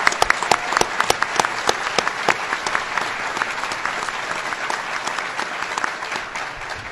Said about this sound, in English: Let's have a big round of applause to Mayor Paul Deister